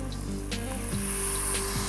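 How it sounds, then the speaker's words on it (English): Water poured into a hot pan of Kerala-style fish moilee sets off a loud, steady sizzle and frying hiss, close by and continuous for about two seconds, with no talking. "We're going to be adding a little bit of water."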